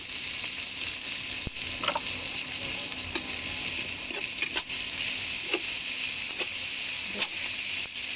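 Chopped green chilies lightly frying with capsicum in a pan for chilli soybean, a constant soft sizzle and hiss with a few scattered light clicks of stirring, close and steady.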